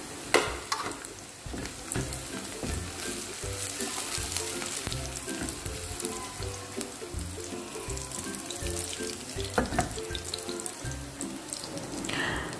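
Leeks and carrots stir-fried in a wok for black pepper kwetiau, a loud steady sizzle with clattering stirring and scraping throughout, close up and without talk.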